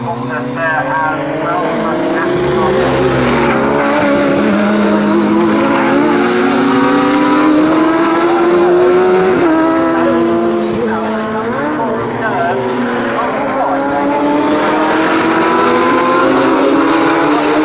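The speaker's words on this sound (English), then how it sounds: "cars make such a brilliant sound as they head down towards the bridge" Sports 1000 race cars at Snetterton circuit roar past in a loud, sustained engine drone, their pitch rising and falling as they run side by side toward the bridge, with a commentator talking over the noise.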